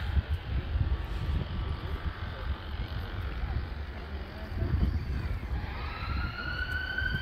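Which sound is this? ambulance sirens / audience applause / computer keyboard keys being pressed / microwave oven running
ambulance sirens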